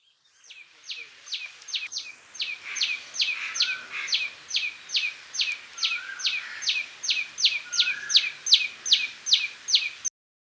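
A tailor bird sings a long, fast series of sharp, repeated high chirps in steady rhythm, close and clear against a quiet background, for about ten seconds before stopping abruptly.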